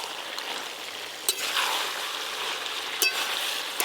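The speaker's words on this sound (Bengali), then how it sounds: "চাপা খুলে আর একবার ভালো করে নেড়ে নেব।" Yardlong beans stir-fried with fish head in a pan, a soft steady sizzle broken by a couple of sharp scraping stirs, close and fairly quiet with no talking.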